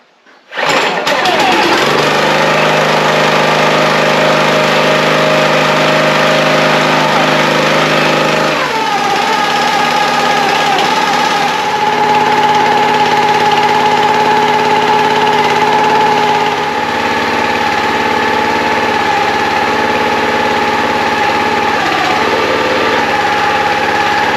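The small gasoline engine of a log splitter starts on a pull and settles into a loud, steady idle close by, its tone shifting slightly a few times as it runs.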